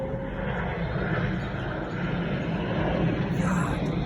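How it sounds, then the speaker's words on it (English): Low-flying fixed-wing airplane passing overhead outdoors, a loud, steady broadband engine roar building slightly toward the end, with a person talking over it. "As soon as the airplane passes us, whoa, this one's a little low today."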